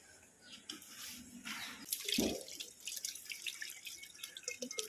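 Water is poured from one container into another while clay is made at home, giving a steady splashing, trickling flow with a brief louder gush partway through.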